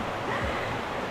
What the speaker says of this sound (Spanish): Y llegamos a la cascada.